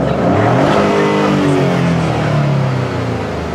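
Maserati Grecale Trofeo engine revved hard while parked, a loud, sustained exhaust roar climbing and falling in pitch across several seconds, close and alone.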